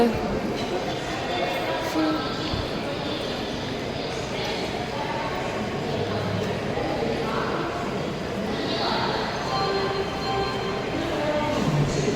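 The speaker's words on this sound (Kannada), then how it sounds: "ಸಖತ್ತಿದೆ ಮಾತ್ರ ಇಲ್ಲಿ ರೈಲ್ವೆ ಸ್ಟೇಷನ್" Busy railway station at Hubballi Siddharoodha on a foggy day with a train present, a dense steady rumble of rail noise and crowd murmur, with voices talking throughout.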